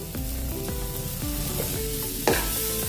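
Steady sizzling of softened onions frying in a pan without oil, with a spoon stirring and scraping through the hiss and a sharper clack near the end.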